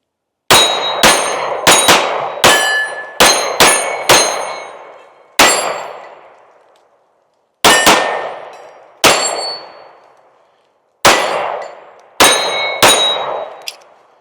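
S&W Compact metal-frame pistol firing at steel targets, about sixteen sharp gunshots, each followed by a ringing metallic clang that decays, fired in quick strings of three or four with short pauses between.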